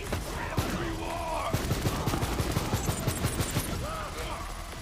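Rapid, rhythmic gunfire from a gun in the video game Borderlands 3, a steady stream of sharp bursts at close range, with voices talking over it.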